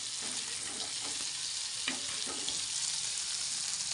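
Paneer fries crisp and reddish on a hot tava, making a constant bright sizzling hiss with a couple of soft stirring knocks partway through.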